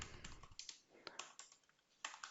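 Typing a command on a computer keyboard, with quick irregular clicks and clacks of keys, several close together, then a final firmer press, faint and close with no talk.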